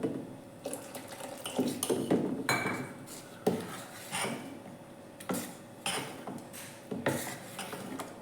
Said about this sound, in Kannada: ಇದು ಸ್ವಲ್ಪ ದಪ್ಪ ಆಗಿದೆ, ಹಾಗಾಗಿ ಇದಕ್ಕೆ ಸ್ವಲ್ಪ ನೀರನ್ನು ಹಾಕೋತೀನಿ